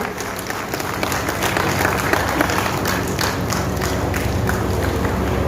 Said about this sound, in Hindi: और आपकी भावनाएं भी पहुंच रही हैं आपकी तालियों के माध्यम से।